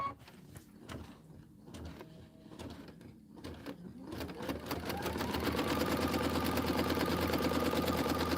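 A sewing machine stitching quilt borders through thick cotton, starting with scattered clicks and short runs before settling into a fast, steady whir that holds loud and continuous to the end.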